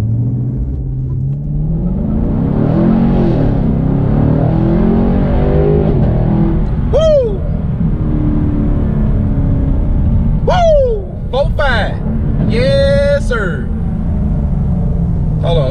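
A 2019 Chevrolet Camaro SS engine rumbles loudly and revs up hard to about 4,000 RPM with rising pitch, close by, while a person talks over the roar.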